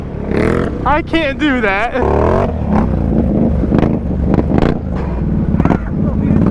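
Honda Rubicon four-wheeler ATVs ridden together through a swamp, engine droning steadily and loudly throughout with rising revs, while people talk and shout over it.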